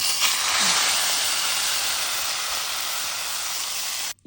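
Hot tempering sizzles loudly as it is poured over broccoli dal, a bright, dense hiss that bursts up at once and holds steady for several seconds before cutting off abruptly.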